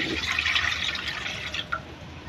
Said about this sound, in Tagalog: Lagyan na natin to ng tubig guys